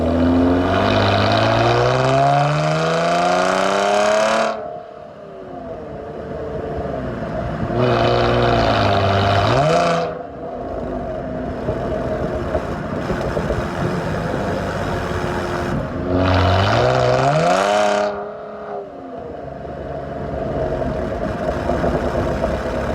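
A 2021 Dodge Challenger's Borla ATAK cat-back exhaust revs hard three times, rising to a loud raspy roar then dropping back to a deep, burbling idle between blips.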